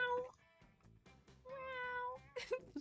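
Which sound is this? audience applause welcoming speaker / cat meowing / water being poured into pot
cat meowing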